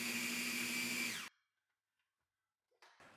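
A food processor whizzing garlic and herbs for a pistachio lamb crust, a loud steady high whine that cuts off abruptly, then brief clatter.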